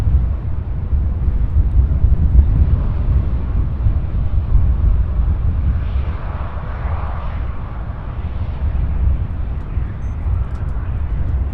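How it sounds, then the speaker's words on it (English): UPS MD-11 freighter jet flying near an airport, a steady broad roar of engines with wind buffeting the microphone, loud and continuous throughout with a slight swell midway. "we do have a second MD-11. This one heading to Windsor Locks"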